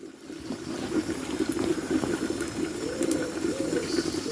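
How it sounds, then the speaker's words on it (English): Steady bubbling and rumbling of water at a rolling boil over a wood-fired heater, continuous and close, with no voices. "you can hear it boiling"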